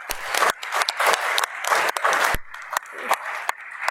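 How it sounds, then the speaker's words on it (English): Conference audience applauding for event sponsors, a mix of clapping and voices with uneven bursts and short gaps over about four seconds. "So let's give a round of applause to all of our conference sponsors."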